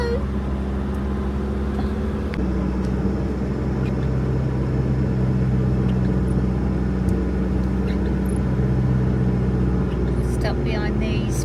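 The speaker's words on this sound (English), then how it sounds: "there's cars and motorbikes overtaking on this road in this weather" Cars and motorbikes pass on a wet road in bad weather, giving a steady, loud rumble of engines and tyres throughout, with no break in the traffic noise.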